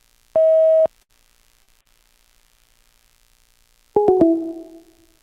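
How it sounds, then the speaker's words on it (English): A single steady phone voicemail beep sounds, then after a pause a harsher multi-toned electronic chirp rings out and decays. "Leave your message at the tone. Press pound when finished."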